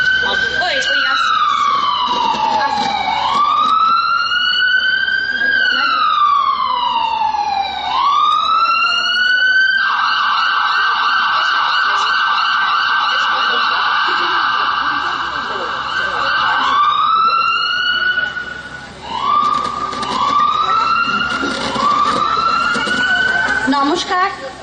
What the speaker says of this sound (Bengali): অ্যাম্বুলেন্স আসছে